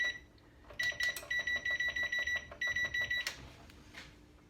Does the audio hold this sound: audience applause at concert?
no